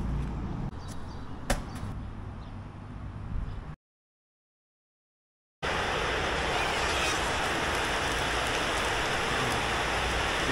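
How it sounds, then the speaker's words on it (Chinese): A heavy rainstorm on a campsite shelter in Brazil: dense, loud, steady rain pours down, broken by a short stretch of silence before the downpour resumes even stronger. "这个大暴雨太可怕了"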